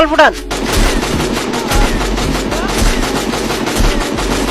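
Rapid bursts of gunfire from a shooting video game, loud and continuous with dense repeated shots and impacts throughout, opening with a short rising electronic tone.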